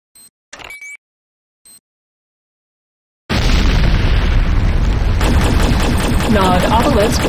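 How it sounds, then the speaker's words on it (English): C4 explosive detonating in the video game Renegade, a massive sustained blast roaring loudly after a few short electronic beeps and pings, the rumble filling the rest of the clip. "C4 is set. Fire in the hole."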